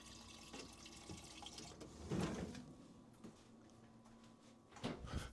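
Quiet trickle of water from a tap with faint clinks and a louder splash in the middle, then another burst near the end.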